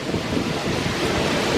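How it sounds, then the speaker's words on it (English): Strong wind buffets the microphone on the open upper deck of the Icon of the Seas cruise ship docked in Cozumel, a steady loud rushing roar with no talking. "It is windy up here right now."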